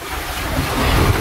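Sea waves wash against the shore at Camotes at low tide, a loud, steady roar of surf mixed with gusting wind noise, close and uninterrupted.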